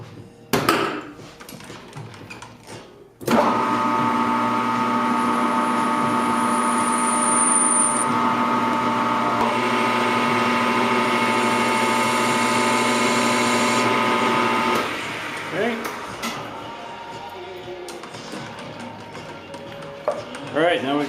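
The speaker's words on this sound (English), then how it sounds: "Now we're going to put a little chamfer on the edge." A metal edge being chamfered on a machine tool while building a desktop gyroscope, a loud steady tonal whine holding for about twelve seconds before it winds down, with quieter workshop noise around it.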